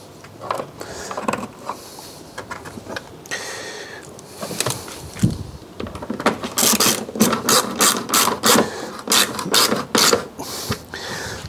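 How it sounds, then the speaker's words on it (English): Screw being driven in while refitting trim on a crash-damaged car: a rapid run of ratcheting clicks and mechanical ticks that grows denser and louder toward the end, close by with no talking. "and then put the screw in"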